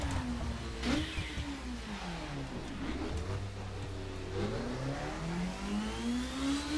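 A car in The Crew revs and accelerates for a running start, its engine tone climbing and dropping through several gear shifts, moderately loud and steady from start to finish.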